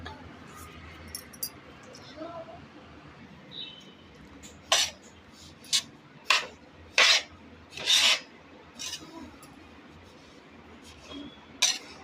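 Corn semolina is roasted in ghee and stirred in a pan, with a run of sharp, separate scraping strokes of the spoon against the metal over a quiet, low background.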